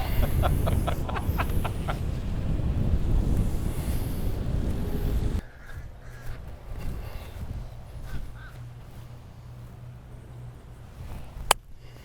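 Wind gusting across a golf course during a U.S. Open local qualifier, a loud rushing buffet on the microphone that suddenly drops to a quieter outdoor hush with faint distant sounds and one sharp click near the end.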